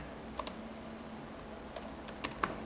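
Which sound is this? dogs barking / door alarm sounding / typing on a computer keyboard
typing on a computer keyboard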